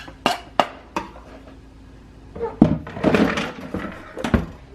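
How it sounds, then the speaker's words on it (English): Chopped hard-boiled eggs, pickles and radishes dropped into a bowl, heard as several sharp thunks and clatters, some spaced apart and then a busier cluster of knocks and scrapes near the end. "I'm gonna drop all my stuff that I cut up into here"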